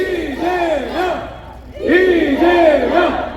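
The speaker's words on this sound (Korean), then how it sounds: "우리 대통령 이재명 후보를 뜨거운 박수로 맞이해주십시오" Crowd at an outdoor campaign rally for a presidential candidate at Gumi Station, shouting and chanting in loud waves that swell, dip briefly and surge again.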